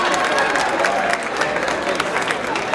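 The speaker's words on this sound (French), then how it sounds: "Son Excellence ambassadeur de Chine à l'OACI, que je vous demande d'applaudir s'il vous plaît." An audience at a women's tribute gala applauds the Chinese ambassador to ICAO with loud, sustained clapping, with faint crowd murmur and scattered cheers mixed in.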